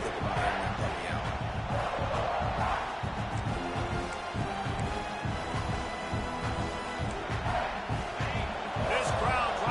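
Stadium crowd noise in a college football video game, South Carolina versus Oklahoma: a dense, continuous roar of fans rumbles throughout, loud and unbroken, with commentary voices woven through it.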